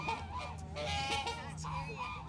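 Geese honk repeatedly in a park, a few close, loud calls in a short burst with faint background murmur.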